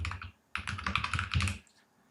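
Quick bursts of typing on a computer keyboard, close and crisp, a short run of keystrokes, a brief pause, then a denser flurry that trails off.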